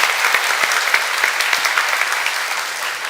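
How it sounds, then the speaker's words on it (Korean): A church congregation claps steadily in warm applause for young volunteers, a dense, continuous patter from a large crowd in a sanctuary, with no voices over it. "우리 청년들에게 격려의 박수 해주시면 좋겠습니다"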